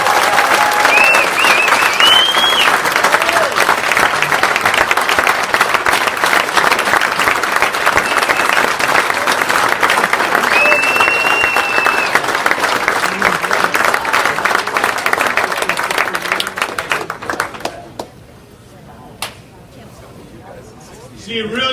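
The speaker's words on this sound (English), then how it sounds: "I want to give everyone a big round of applause to Kenny" A crowd at a baseball first pitch reception applauds a member of the 1950 team, loud sustained clapping with some voices mixed in, fading out near the end before a brief pickup.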